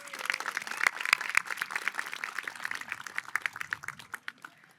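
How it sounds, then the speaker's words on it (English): Applause from a commencement crowd honoring graduates' families at a high school ceremony, a dense patter of many hands that rises quickly and then thins into scattered claps, heard from a distance. "Class of 2026, let's give our families a warm round of applause."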